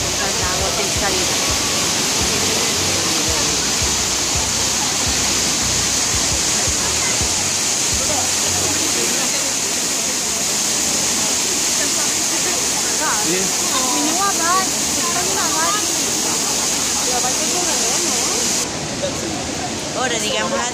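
Water from the Trevi Fountain in Rome splashes and pours at night in a loud, continuous rush, with crowd voices murmuring underneath.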